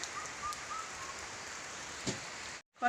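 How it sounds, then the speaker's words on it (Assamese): Light drizzle on a hot day falls as a soft, even hiss of rain that holds steady, then cuts out briefly near the end before a short louder sound. "বৰষুণ চিপচিপকৈ পৰি আছে, বৰ বেছি ডাঙৰকৈও নাই দিয়া"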